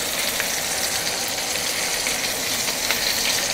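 Pieces of food sear in olive oil in a hot pan, giving a dense, continuous close-up sizzle and crackle with no pauses.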